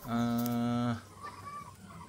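Brood rooster crowing loudly and close in a chicken pen, one long harmonic call lasting about a second, followed by softer clucking and low barnyard noise from the flock.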